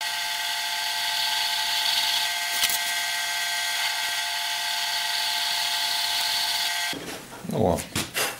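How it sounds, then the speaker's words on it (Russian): A center drill bores into metal on a lathe tool-rest part, a continuous high whine that runs steadily for several seconds, then cuts off as a voice speaks near the end. "Сначала центровочным сверлом зайдем, чтобы не съехало"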